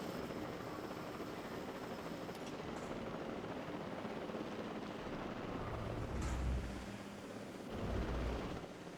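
A drone in the video game Jurassic World Evolution 2 flies with a steady, dense rotor whir that fills the scene and swells louder twice near the end.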